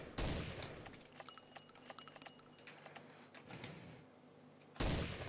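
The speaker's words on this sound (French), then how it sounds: "Je tire, j'arrive à avoir personne." Quiet rapid clicks and faint pops of sniper gunfire in the video game SniperBattle, a string of short sharp shots with a louder burst at the start and end.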